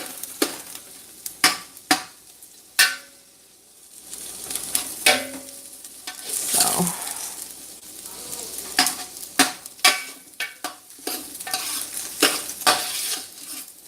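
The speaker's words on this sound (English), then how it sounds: "So the reason why I put the garlic on last to this pot, because of the simple fact garlic cooks really quick and you don't want to burn the garlic." Garlic sizzles in a pot for homemade pumpkin soup while a utensil scrapes and clacks against the metal in irregular bursts, the frying hiss close and constant beneath.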